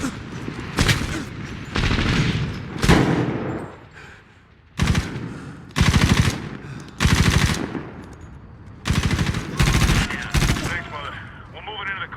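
Loud, close machine gun fire from the Medal of Honor video game rips out in repeated long bursts separated by brief pauses, with occasional shouted voices between the volleys.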